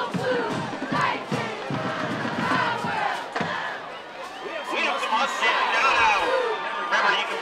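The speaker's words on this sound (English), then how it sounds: "Their crowd really into the football game right now." A high school football crowd at a Lakeview Huskies versus Stevenson Titans game roars and yells together in loud, overlapping bursts of cheering and chanting that rise and fall in waves.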